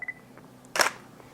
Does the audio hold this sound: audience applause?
no